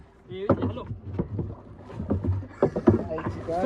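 A boat moving on a river, with soft splashes and water knocks close by under windy microphone noise, while voices talk throughout.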